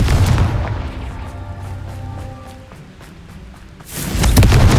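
The Confringo blasting spell in Hogwarts Legacy detonates with a heavy, booming explosion that rumbles and fades, followed by a second loud blast near the end.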